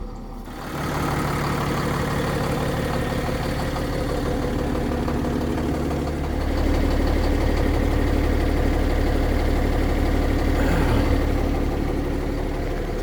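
A 2017 Entegra Aspire bunkhouse motorhome idles just after start-up, a steady, close engine rumble that runs without pause and grows slightly louder and fuller about halfway through.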